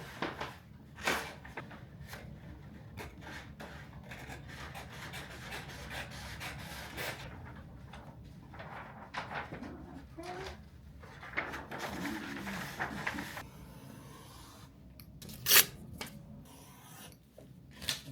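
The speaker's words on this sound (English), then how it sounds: "Finished cutting the patterns." Paper sewing patterns for a t-shirt are cut by hand, giving a run of close, uneven scissor snips and papery rustles with scattered handling clicks throughout.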